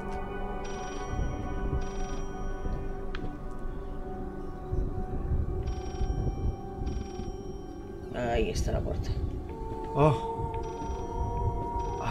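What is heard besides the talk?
telephone ringing in Layers of Fear video game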